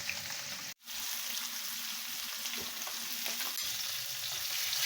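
Fish frying in oil until crispy for a green chili sambal dish, with a steady close crackling sizzle that runs throughout, briefly dipping near the start before resuming.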